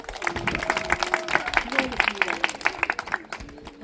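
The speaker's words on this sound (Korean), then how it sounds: "우리를 박수로 환영하겠습니다" A church congregation claps in welcome during a Sunday baptism service, a steady patter of many hands under talk and harmonic voices that run through the whole stretch.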